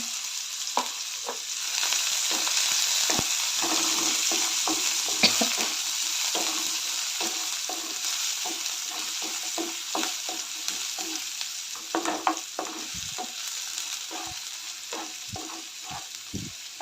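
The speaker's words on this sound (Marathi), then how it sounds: "कांदा चांगला परतून घेऊया" Onion sautéed in a pan of hot oil with crackled mustard seeds and cumin, giving a steady close sizzle broken by frequent scraping stirs of the spatula throughout, with no talking.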